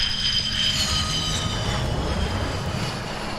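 A fighter jet's engine roars steadily in the combat flight game Ace Combat 7: Skies Unknown. The wash is loud and continuous, with a faint high whine running over it and no talk.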